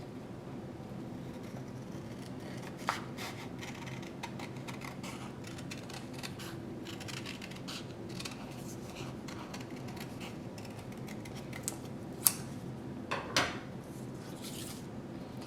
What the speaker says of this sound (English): we're going to cut through both pieces of paper and cut that piece out